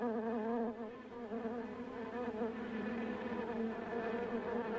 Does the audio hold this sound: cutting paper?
no